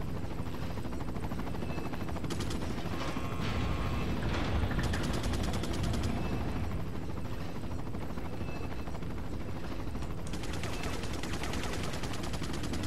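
Enemy gunfire in Resident Evil 4, scattered shots and short bursts over a steady loud rumbling background, somewhat distant.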